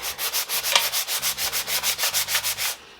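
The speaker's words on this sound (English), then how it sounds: "rub away at the finish" Rhythmic back-and-forth scuff sanding strokes rasp across the glossy lacquer finish of a wooden tea trolley, about a dozen even, steady passes close up, alone and without talk.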